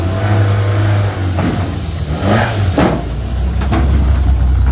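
A rally car engine revs loudly and continuously at the Rallye de Dieppe Normandie, rising and falling in pitch with a few sharp throttle bursts, close by.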